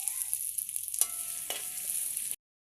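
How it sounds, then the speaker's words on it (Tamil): Onion goes into hot oil with ginger-garlic paste and fries with a bright, steady sizzle. A couple of soft scrapes from stirring come through before the sound cuts off abruptly, with no voice over it. "ஒரு வெங்காயத்தை சேர்த்துக்கொள்வோம்."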